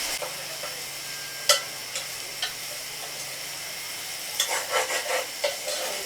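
Carrots, green beans and onions stir-fried for fried rice, a steady sizzle broken by several sharp scrapes and clacks of a utensil against the pan, with a livelier burst of stirring near the end; nobody speaks.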